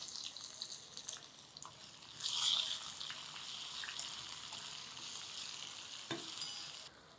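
Onion pieces fry in hot tempering oil with asafoetida for a leafy greens curry, a faint continuous sizzle that swells briefly as the onions go in, with occasional stirring taps and no talking.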